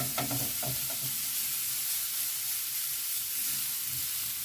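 Onions caramelizing in a pan for a warm eggplant and chicken salad hiss and sizzle steadily, with a few soft scraping stirs near the start, close and moderately quiet, with no talk.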